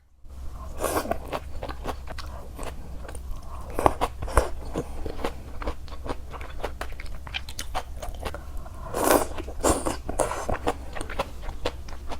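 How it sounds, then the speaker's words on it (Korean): Vegetables dipped in ponzu with grated garlic and cheongyang chili are eaten up close, with soft crunching bites and steady chewing over a low hum, and no talking. "야채는 폰즈에 먹는 게 제일 맛있어요"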